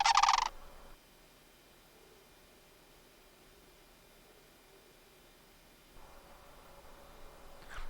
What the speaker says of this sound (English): These are sandhill cranes.